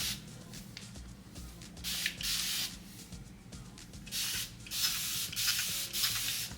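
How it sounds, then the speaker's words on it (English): A hand spray bottle mists water onto thick natural hair in repeated short hissing bursts, about half a dozen close spritzes spaced unevenly across the stretch. "I'm gonna spray just a little bit more water."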